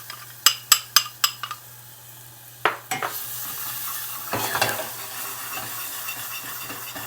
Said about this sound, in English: I'm sauteing my onion, about 1/4 of an onion, and the roux